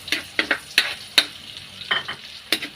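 Garlic and onion sizzle in a pan for pancit canton, a softer crackling fry punctuated by about eight crisp spatula strikes and scrapes as they are stirred.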